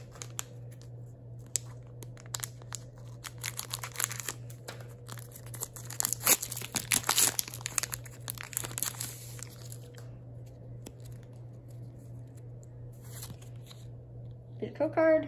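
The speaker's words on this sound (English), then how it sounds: "This one we're gonna need to use scissors, shake it down so no cards get snipped." Scissors snipping and crinkling open a foil Pokémon Sun and Moon base set booster pack, with quiet rustling and a few brief crisp cuts under a steady background hum.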